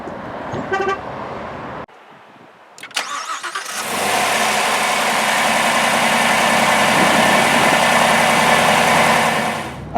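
A 2016 Chevy Camaro 2SS convertible is started after a brief chime and clicks: the starter whirs, the engine fires with a loud rumble, then settles into a steady, close, throaty idle that holds to the end.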